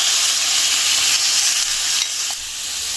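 Spiced beef liver frying in ghee on a tawa makes a loud, continuous, close-up sizzle that eases slightly toward the end, with no voices.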